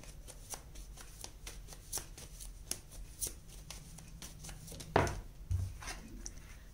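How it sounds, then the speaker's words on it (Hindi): Tarot cards being shuffled and drawn, a soft run of quick riffling flicks and papery slaps with a few sharper snaps and light taps near the end, close and quiet with no talking. "और निकालते हैं कार्ड्स"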